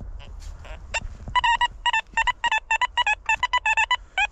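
Metal detector signal tone over buried iron and a possible coin in a field behind old houses, sounding as a rapid series of short, bright, pulsing beeps, repeated in bursts, with faint speech early on.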